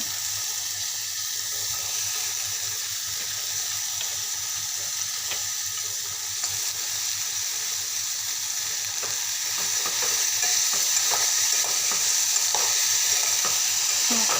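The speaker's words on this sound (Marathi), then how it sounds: "आता आपण पत्ताकोबी सोडूया" Finely chopped cabbage frying in a pan for a dry Marathi-style cabbage dish, with a steady close sizzle and repeated scraping stirs throughout, growing slightly louder toward the end.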